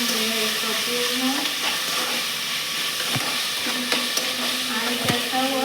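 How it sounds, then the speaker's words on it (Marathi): Food sautés in a hot pan with a constant close sizzle and hiss, while a utensil scrapes and stirs through it in irregular strokes with occasional sharp taps on the pan. "त्याच्यावर परतून घेणार."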